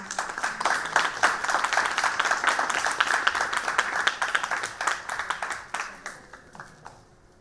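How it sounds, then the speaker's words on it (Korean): An audience applauds at an award ceremony for a youth video (UCC) contest honoring independence activist Kim Seong-suk, with dense, steady clapping for several seconds that thins and fades toward the end. "큰 박수 부탁드리겠습니다."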